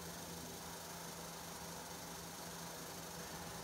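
Electric roller vane fuel pump running on a waste oil conversion setup, giving a steady, faint mechanical hum with a low pulsing tone and broad hiss throughout, and no talk.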